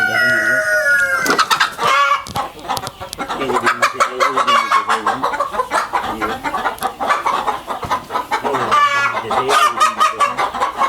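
Hens clucking on a poultry farm, with repeated close cackles, a rooster-like crow and overlapping clucks filling the whole stretch.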